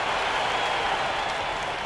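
NBA 2K16 basketball arena crowd cheers as a steady, broad roar that holds at constant volume throughout, with no clear talking above it.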